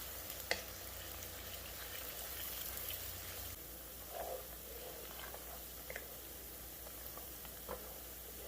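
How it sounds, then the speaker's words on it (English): Onions frying in a pan for Jeow Bong give a faint, steady sizzle with a few small pops and clicks, heard from close by and without speech. "we're also gonna fry these until the onions become golden"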